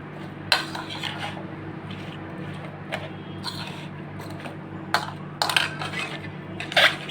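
A spoon clinks against a bowl while mixing tamarind with kasundi, sugar, salt and chili powder, giving a few sharp scrapes and knocks over a steady low hum.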